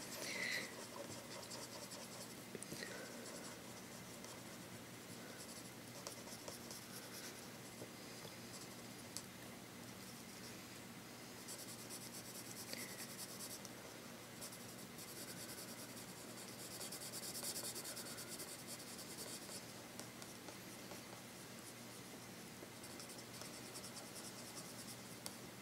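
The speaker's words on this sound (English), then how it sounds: "a circular pattern can be quite helpful, because you're just pushing the ink about on the paper" Graph'it alcohol markers pushing ink around on paper in circular blending strokes, a soft continuous rubbing and scratching texture, steady and close, with no speech.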